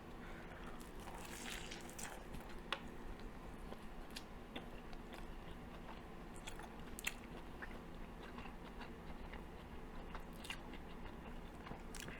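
Close crunchy bites and wet, steady chewing of a Reuben sandwich with mustard, sauerkraut, bread and meat, eaten at the Pickle Bar, with soft mouth sounds repeating throughout and no talking.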